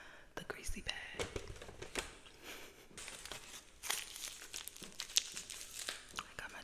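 Greasy Five Guys paper bag being crinkled and crumpled close to the mic, a series of sharp papery crackles and rustles in bursts, soft and intimate, with a faint whisper.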